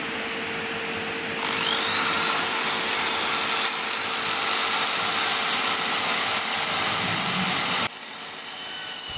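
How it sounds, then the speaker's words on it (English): A loud, steady drill whirring as sandpaper spins and rubs against a wooden platter, running continuously and then dropping off near the end. "I use the inertia of the drill and the friction of the sandpaper to spin the"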